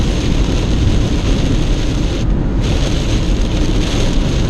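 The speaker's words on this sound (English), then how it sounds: "The wind is getting bad." Steady, loud wind roaring and buffeting against a car driving through rain on a highway, a dense continuous rush with no voices and only a brief dip in the high hiss partway through.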